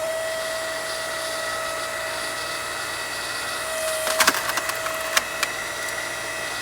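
Electric log splitter on off-grid solar power, its motor humming steadily as it pushes through a small wood log, then a brief flurry of sharp cracks and splintering as the wood gives way near the end.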